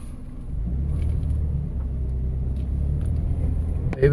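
A car drives along a mountain road near Carcar City, Cebu, its engine giving a steady low rumble that swells at the start and holds throughout. A brief louder knock sounds near the end, and no one speaks.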